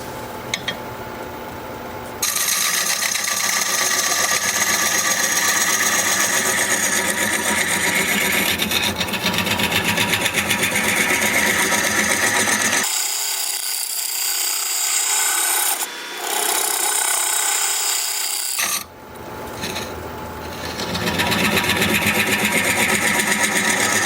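Continuous loud abrasive rasping of sandpaper against wood spinning on a lathe, with a short pause midway before the grinding resumes.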